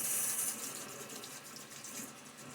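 A tap runs steadily as a razor is rinsed under it, a soft continuous stream of water heard close up and fairly quiet, with no voices.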